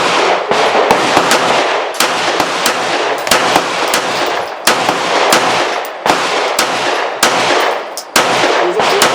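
Glock 19 9mm pistol fired with a Magpul aftermarket magazine, loud close shots in quick irregular succession, about a dozen sharp cracks echoing outdoors.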